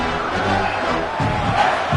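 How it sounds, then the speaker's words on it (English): A football stadium crowd roars behind the home defense before a big third down, a loud, sustained rumble that swells in waves with no clear voices on top. "Big third down as the crowd gets behind this defense."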